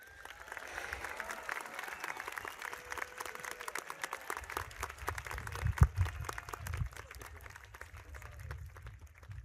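Scattered, fairly quiet applause from an audience at a high school commencement, crisp individual claps over a low rumble, with a louder thump around the middle.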